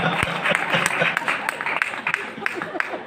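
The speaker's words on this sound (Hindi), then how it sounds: "जोरदार तालियां" Audience applause at a kavi sammelan poetry recital in Parasnath, Jharkhand: a dense, sustained wash of many hands clapping throughout, with crowd voices and calls running over it.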